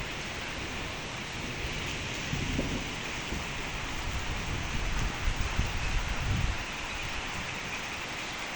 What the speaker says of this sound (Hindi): अभी यहाँ पे बारिश जो है वो फुल ज़ोरों से हो रही है